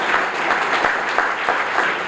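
Hearty applause from an awards-ceremony crowd greeting new members, a loud, dense burst of clapping with a few sharper claps standing out.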